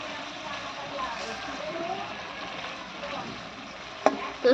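Prawns and fish added to a hot pan for a spicy Bengali curry with pointed gourd, sizzling and frying softly with stirring scrapes, followed by a couple of sharp clinks near the end.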